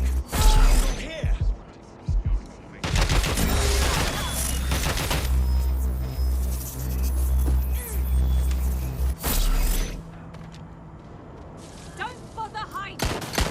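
Heavy gunfire erupts in Watch Dogs Legion: sustained bursts of automatic shots, loud and close, with booming impacts and mechanical clatter, and a voice calling out over the shooting.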